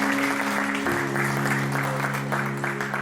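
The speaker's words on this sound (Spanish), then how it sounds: "denle un aplauso al Señor" Church congregation applauding during a testimony service, steady clapping at moderate level with a sustained musical tone underneath.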